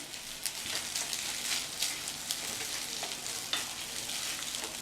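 Cooked masala rice being stirred and mixed in a pan over a lowered stove flame, a steady close scraping and soft sizzle with occasional spoon clicks, no voices.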